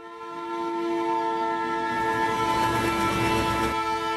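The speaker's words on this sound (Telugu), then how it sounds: "ట్రైన్ ఎప్పుడు వస్తుంది?" A train arrives with a loud sustained horn blast over the rising rumble of rolling wagons, filling the station scene with no talking.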